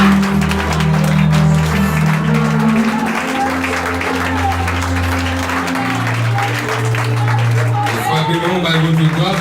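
A worship congregation claps along during praise music, steady applause-like clapping layered over sustained instrumental chords and singing voices, loud and continuous throughout.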